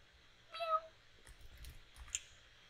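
A small black cat meows once in the video game Exile, a short rising cry over low background noise, followed by faint clicks.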